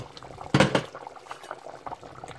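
Thick kreingéssi sauce, an Abidji specialty, bubbles under a lid in a covered pot, giving a soft burst of low popping near the start, then a quieter, uneven simmer of small blips.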